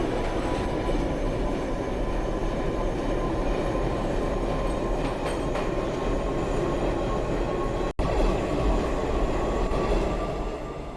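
An R68A subway train on the Q line to Brighton Beach in the OpenBVE simulator rolls along steadily, with a continuous rumble, wheel clatter and faint squeal, and one brief dropout near the end.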